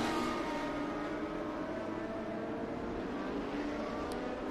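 Radical prototype race cars battle at Circuit of The Americas, heard as a faint, distant, continuous engine drone with a steady whine and no distinct pass-bys.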